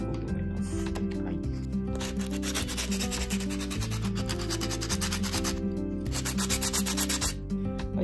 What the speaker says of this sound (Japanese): このヤスリ使ってね、これを使って簡単に形をですねもう少し綺麗に仕上げていこうと思います。